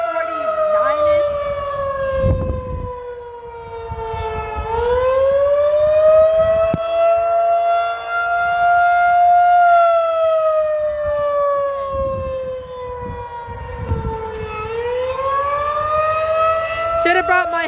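A Federal Signal FS-2001-SRN civil defense siren sounds during a test in Humboldt, Tennessee, a loud, steady wail that rises and falls slowly as it rotates, with faint background noise underneath.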